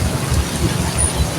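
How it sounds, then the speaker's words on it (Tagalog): Heavy rain pours down in a dense, steady roar, loud and close, with low rumbling undertones and no voices. "Ayan, pangalawang bugso ng ulan."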